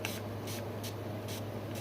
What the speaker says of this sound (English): I'm going to spray my nails with antiseptic spray because it's just sanitary to do.